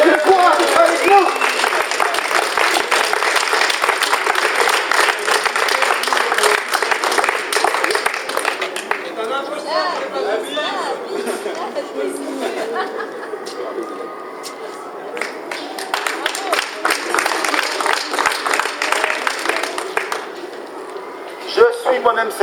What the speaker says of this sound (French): Isabelle Contasson, on l'applaudit très fort